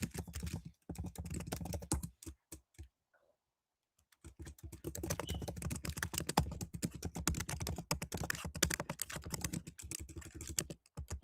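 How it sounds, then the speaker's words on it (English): Rapid typing on a computer keyboard fills the space, dense bursts of key clicks close to the microphone, broken by one short pause of about two seconds before the fast clatter resumes. "Sorry about my fast typing"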